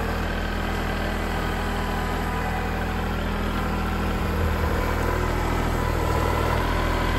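A tractor engine runs steadily in a firewood yard, a loud, continuous idling rumble with a low vibrating drone that holds close and constant throughout, with no voices.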